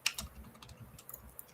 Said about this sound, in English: I think I was just typing